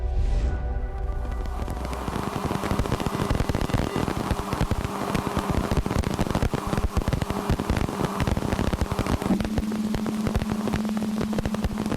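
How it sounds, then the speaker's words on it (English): Dust grains striking the rings of Uranus, captured by a spacecraft, come through as a steady, dense crackling hiss like static, unbroken for the whole stretch, with a faint hum appearing near the end. "What you're hearing now is the sound of dust impacts on Uranus's rings."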